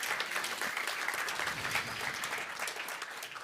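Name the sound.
audience applause at a conference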